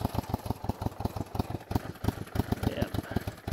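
A cold 1973 Honda CB450 dual overhead cam motorcycle engine idling, a loud, close, steady rapid thumping pulse with slight unevenness throughout.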